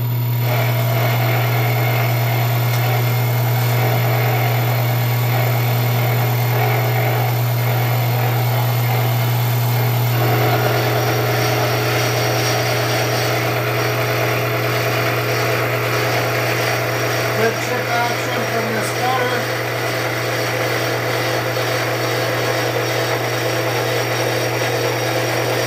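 A Bridgeport milling machine cuts long material with a roughing end mill at about 530 RPM, giving a steady loud motor hum and grinding cutting noise that shifts in pitch partway through and runs continuously throughout.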